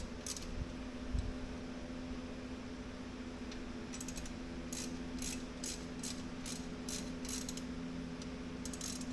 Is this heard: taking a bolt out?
yes